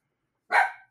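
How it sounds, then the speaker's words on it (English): A single sharp dog bark, close and loud, rings out once in otherwise silent surroundings and then stops. "Sorry about the dog barking."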